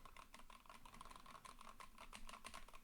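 Rapid, continuous typing on a mechanical computer keyboard, a dense patter of close clicky keystrokes with a popcorn-like quality, no voices.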